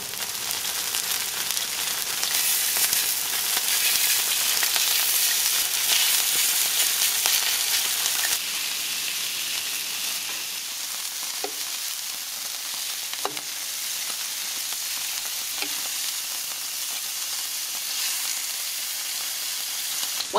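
Strips of buche sizzle steadily in oil broth on a Mexican street-food discada, a loud, continuous frying hiss that stays close and unbroken, with a few faint clicks.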